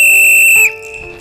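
A referee-style whistle gives one sharp, piercing blast at a Sunday school service, very loud and close, cutting off after about half a second with a faint ringing tail.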